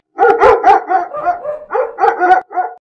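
Several dogs bark excitedly in a close, loud burst of overlapping barks and yips, with a few short pauses between them and no talk over them.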